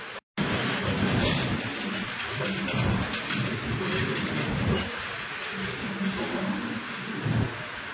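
Inside the Agartala–Prayagraj Tripura Sundari Express (14619) as it pulls out of Patliputra Junction, a continuous rumbling roar of wheels on track fills the carriage, steady and loud, after a brief silent gap at the start.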